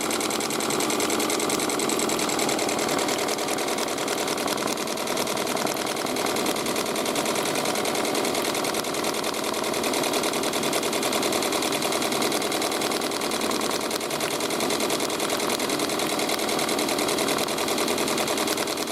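An embroidery machine fitted with a Mighty Hoop 13x8 stitching at about 600 RPM, a loud, even, rapid mechanical chatter that runs unbroken throughout.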